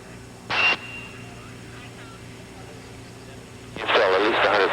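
The Voyager aircraft, a slow plane travelling around 85 to 90 miles an hour, is on landing approach. A steady low engine drone runs throughout, broken by short bursts of radio voices.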